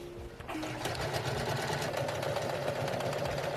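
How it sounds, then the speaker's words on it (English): A sewing machine stitches across a spring coat collar, starting up after a brief pause and then running as a steady, fast mechanical whirr with rapid rhythmic needle clatter, close and alone. "I'm going to be sewing from the green side on the top, and I have a green thread feeding through my needle"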